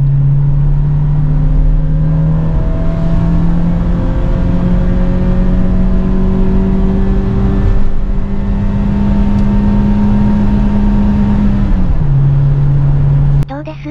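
Toyota HiAce Super GL petrol van engine droning steadily while driving, a loud sustained hum that holds its pitch with slight rises, then drops as the revs fall near the end, with a voice talking over it.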